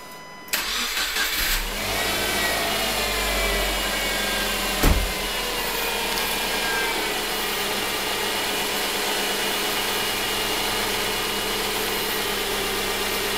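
A Subaru Impreza engine cranks and catches almost immediately, then settles into a steady, even idle with a brief bump partway through, heard close with no voices.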